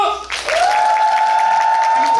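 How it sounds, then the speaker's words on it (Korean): A theater audience at a musical's closing curtain call bursts into loud, sustained applause for the band that fills the space, with a steady held tone ringing through the clapping. "그리고 드럼의 나옥균, 이주원 연주자님과 박수!"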